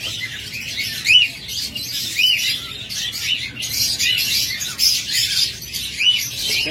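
A pair of red-eyed finches chirping close by, a busy run of bright, high tweets and calls that goes on with hardly a break, with no voices.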